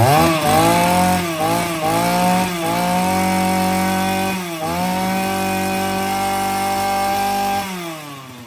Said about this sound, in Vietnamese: nghe tiếng máy nổ êm hơn nhá